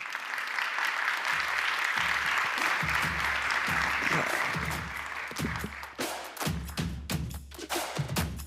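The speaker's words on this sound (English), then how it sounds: "big round of applause for all our panelists" A conference audience at a 2022 consumer forum in Portugal applauds its panelists with steady, full clapping that gradually thins out as voices begin to come through.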